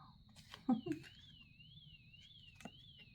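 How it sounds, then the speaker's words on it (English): A car alarm wails at a distance, its pitch sweeping up and down steadily, with a few brief knocks and thumps nearby. "Somebody's car alarm going off right now."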